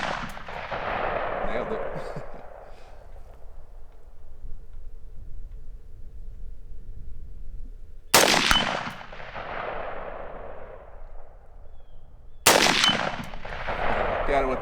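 Three sharp, loud rifle shots fired at a target through a 4x20 retro carry handle scope, spaced several seconds apart, each followed by a long fading echo; someone speaks briefly between shots.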